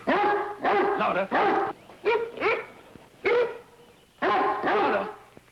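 Dog named Juno barking on command in a series of loud, close barks and yips in about six bursts, with quiet gaps between them.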